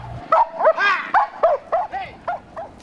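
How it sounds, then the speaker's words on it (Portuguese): A police dog gives a rapid series of about eight sharp, close barks and yips, loud and evenly spaced, with whimpering tones between some of them. "nosso cão policial, que vai estar atuando nessa atividade específica"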